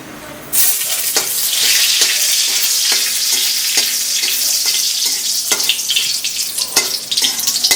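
Bay leaf and dried red chillies fry in hot oil with a sudden loud sizzle that holds steady, broken by repeated scrapes and knocks of a stirring spoon against the pan.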